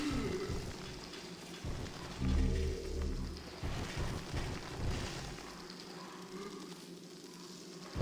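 Steady indoor rain patters and hisses through a gloomy interior in the game Demon's Souls, a soft continuous wash with a few low thuds, no talking.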